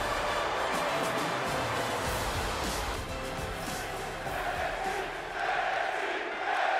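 Crowd noise in the WWE 2K22 wrestling video game at the start of an NXT match, a broad continuous arena roar with excited cheering, steady and fairly loud throughout.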